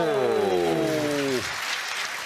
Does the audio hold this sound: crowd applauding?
yes